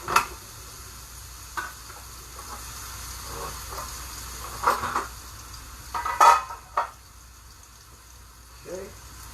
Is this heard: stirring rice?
yes